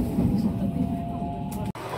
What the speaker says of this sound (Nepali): यहाँबाट ट्रेन चढिसक्यौँ।